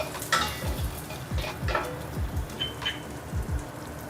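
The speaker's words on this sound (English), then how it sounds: "Add the dried shrimps. Saute until fragrant." Dried shrimps saute in hot oil in a pot, giving a soft, steady sizzle under repeated scraping strokes of a spatula against the pan, heard close up and with no talk.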